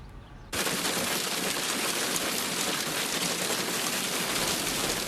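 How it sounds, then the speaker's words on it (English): Hail pounds down hard during a storm in southeastern Texas, starting abruptly as a dense, loud, continuous clatter that holds steady to the end. "That, my friends, is the sound of hail pounding parts of southeastern Texas Tuesday."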